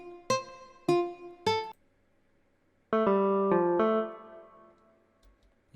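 A beat melody plays dry without a chorus effect: three short plucked synth notes, a pause, then a fuller sustained chord figure with several note changes that decays gradually, close and clean.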